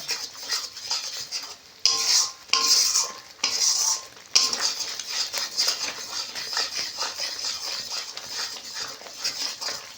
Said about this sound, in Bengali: টক দই যাতে কেটে না যায় সেই জন্য অনবরত নাড়তে হবে।